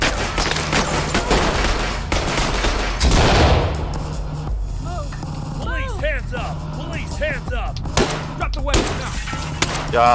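Gunfire in the tactical shooter video game Ready or Not: sharp bursts and single shots ring out amid game ambience, with someone talking over much of the action.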